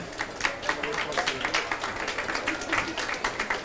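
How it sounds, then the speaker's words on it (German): A small group claps continuously for a few seconds, a steady patter of hands close by. "Gebt einen Applaus."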